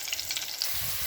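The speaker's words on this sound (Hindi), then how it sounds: "मिर्च को थोड़ा सा हल्का सा ऑयल डाला पैन में और इसको हम फ्राई कर लेते हैं" Chillies sizzle in a little oil in a pan, a short, steady hiss of frying heard up close with no talking.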